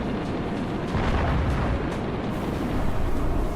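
Heavy, rumbling explosions from a Halo mod video game, glowing green, roll on in a continuous loud wash of booms and bursts with no pause.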